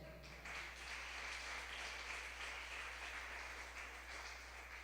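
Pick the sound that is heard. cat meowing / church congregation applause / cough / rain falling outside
church congregation applause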